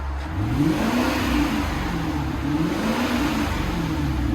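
A stock Lexus SC 430 4.3L V8 engine revs up and down in several low, rumbling surges over a steady mechanical hum, close by, fairly mellow and quiet.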